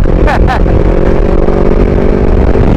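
A CFMoto 650MT 650cc motorcycle being ridden, its engine a loud, steady, close drone throughout, with brief sharp noise bursts near the start.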